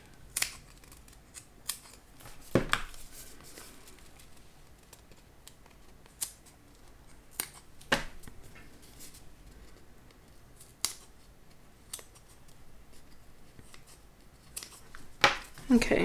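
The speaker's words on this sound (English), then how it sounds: "Snip these apart." Scissors snipping apart sewn fabric pieces for a piggyback backpack: sharp, isolated clicks and snips spaced irregularly a second or two apart, close and crisp over a quiet room.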